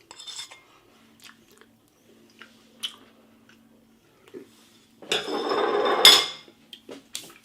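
Someone eating an ASDA Carolina Reaper pork sausage whirl with chilli cheese, with quiet, scattered bites and chewing, faint clinks of cutlery, then a louder burst of crunchy, squishy munching close to the mic.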